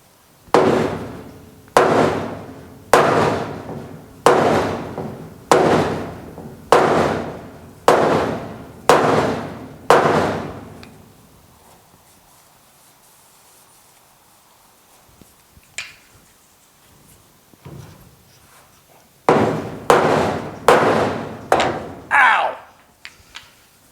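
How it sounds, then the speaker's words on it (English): A rubber mallet strikes a GTO fender backed by an oak block and a dolly, landing a steady series of about eight loud, sharp thuds, then going quiet for a while before a second burst of blows. "So what I'm going to use is the rubber mallet, and I've got a piece of oak."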